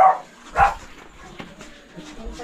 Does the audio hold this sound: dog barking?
yes